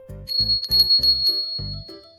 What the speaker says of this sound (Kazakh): Бұл қызыл қоңырау.